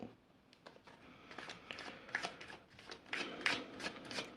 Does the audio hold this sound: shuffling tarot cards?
yes